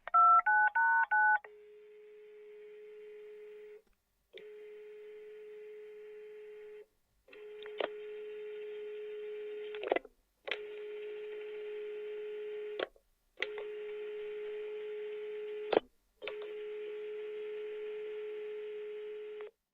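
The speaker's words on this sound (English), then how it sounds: "He picked up his phone and dialed the FBI field office in Phoenix." A telephone is dialed: a quick run of keypad tones opens, then a long series of steady electronic tone bursts separated by short gaps and clicks, clean and isolated.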